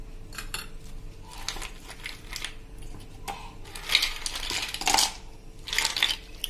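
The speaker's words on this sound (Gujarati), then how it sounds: "અને થોડા એવા આઈસના ક્યુબ નાખી દેશું." Ice cubes tumble into a blender jar in a short series of bright, hard clinks and rattles, close by and irregularly spaced, with the loudest clatter near the end.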